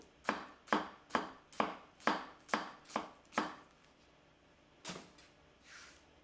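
A Konosuke Honyaki gyuto knife chops crisply on a cutting board: eight quick, evenly spaced strikes, a pause, then two more, close and alone.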